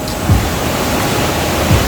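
A river swollen by a tropical cyclone on Réunion rushes past in a dense, broadband roar, loud and continuous, with faint low thuds beneath and no voices.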